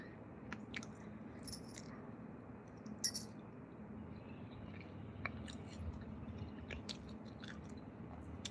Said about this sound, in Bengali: খাচ্ছি খেতে পারছি না তবুও খাচ্ছি